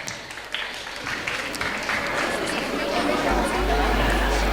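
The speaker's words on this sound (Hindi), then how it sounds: "जोरदार ताली बजाएं" A crowd claps and cheers for prize winners at a handloom fashion show, steady dense applause building slightly over several seconds, mixed with crowd chatter.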